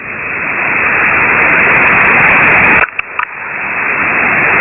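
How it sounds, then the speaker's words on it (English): A shortwave radio carrier hisses loudly as a transmitter is keyed with no voice, a band-limited rush of static that briefly drops out and stutters before resuming. "Okay, I hear you keying, but your lips aren't moving."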